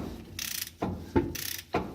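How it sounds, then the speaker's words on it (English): A ratchet clicks in quick runs while tightening the pinion nut on a 1976 Chevrolet Nova, two close bursts of rapid pawl clicks, each cut off by a firmer knock as the handle swings back. "this pinion nut really doesn't take a whole lot of torque to tighten down"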